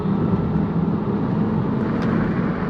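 A 2024 Tesla Cybertruck accelerates on throttle, giving a steady, even hum of motor and road noise heard from inside the cab with no clear rise or break.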